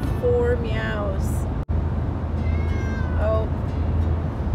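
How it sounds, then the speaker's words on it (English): A cat meows twice inside a moving car on the way to the vet, its drawn-out, rising cries standing out clearly over the steady low rumble of the engine and road. "That is the second meow I have gotten."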